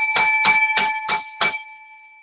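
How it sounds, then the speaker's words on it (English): Five bright, ringing bell strikes in a studio, the bells used as props for a talk show segment, spaced evenly about a third of a second apart and loud and close, with the last ring fading out. "7 lucky bells for Progressive Discussions."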